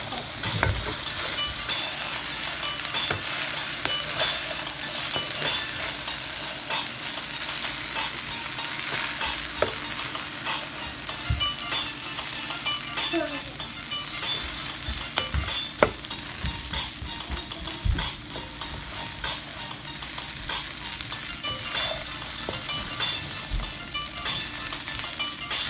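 Pineapple shrimp fried rice is stirred in a hot pan, with a constant sizzle broken by repeated scraping and clinking of a utensil against the pan, close and steady throughout.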